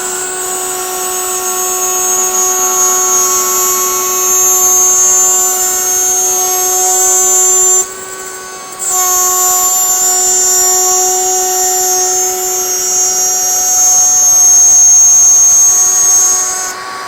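A router cuts a wooden base plate for a wooden plane, a loud steady high-pitched whine held for about seventeen seconds, with a brief dip near the eight-second mark before the cut resumes at full level.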